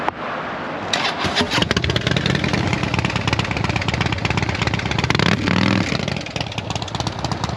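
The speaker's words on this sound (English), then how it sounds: "So here's a cool sounding Harley." A Harley-Davidson motorcycle engine cranks over, catches, and runs with a loud, uneven, lumpy idle, close by and steady.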